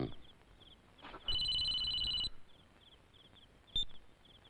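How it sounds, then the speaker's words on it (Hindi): A telephone rings faintly in a room, one electronic ring burst of about a second standing out over quiet background hiss, with a short click afterward and no talking. "दुष्यंत का फोन है।"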